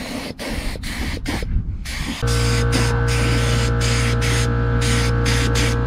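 A spray gun lays clear coat onto a Cobra Daytona body, giving loud hissing bursts broken by short gaps, while a steady low hum joins partway through and continues beneath the spraying.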